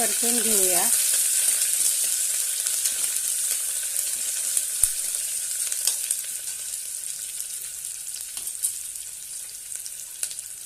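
Onion fries in a pan for veg pulao, a loud, steady hiss right after it goes in, with occasional light taps of a utensil as it is stirred.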